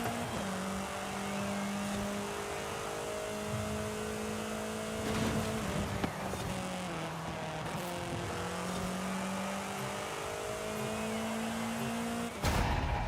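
A car engine in the video game Forza Horizon 5 drones and revs steadily behind the player, pitch rising and falling as it accelerates and shifts, continuous and fairly loud.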